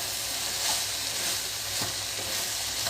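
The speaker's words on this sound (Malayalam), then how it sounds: "എല്ലാം കൂടി മിക്സ് ചെയ്യാൻ എടുക്കണം" Soybeans stirred and fried in a pan, a loud continuous close sizzle with occasional spatula scrapes through the mix.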